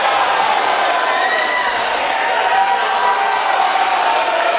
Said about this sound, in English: The crowd going absolutely unhinged